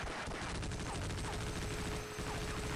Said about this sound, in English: I like the irony of killing the heavy weapons guy with the machine gun